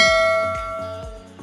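A subscribe notification bell sound effect rings out with a clear, sustained metallic ding followed by a few softer repeated chimes that fade, loud and isolated with no voices.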